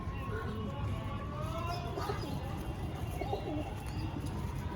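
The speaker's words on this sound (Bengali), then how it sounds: "তামড়া ছাপকা সুন্দর পায়রা।" Copper-spotted pigeons coo softly in a loft amid steady ambient noise and faint chirps, the calls low and intermittent rather than prominent.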